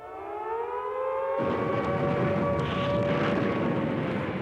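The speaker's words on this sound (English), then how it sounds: "they did when the air raid sirens sounded" A steady air raid siren wails loudly and continuously, its rising tone holding over a rumbling, engine-like background roar.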